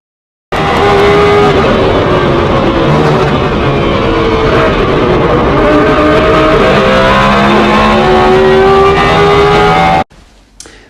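Lamborghini Huracan racing around the Bikernieki track in a sim racing game, its engine a loud, steady, continuous roar with shifting harmonic pitch as the car rides the curbs and snaps, cutting off abruptly near the end.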